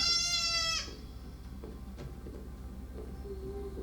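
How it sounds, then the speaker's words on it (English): A goat gives a single loud, wavering bleat that lasts under a second and then cuts off, leaving a quiet room hum with a few faint ticks. "It's a goat."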